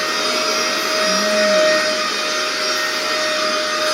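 Vacuum cleaner running steadily over a mattress, a continuous close motor whine and airy hiss with a slight shift in pitch midway, no talking.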